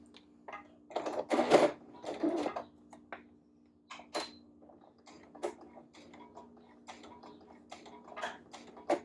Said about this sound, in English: My machine tends to eat my fabric if I start to the very end.